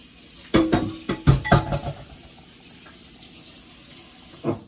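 In a home kitchen with an electric stove, water runs from the sink tap for rinsing during Jamaican beef stew preparation. It makes a close, splashy gush lasting about a second and a half, followed by quiet and one last small splash.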